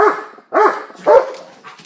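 A police K-9 dog barks three times in quick succession, loud and close, with sharp rough yips separated by short pauses during an indoor building search.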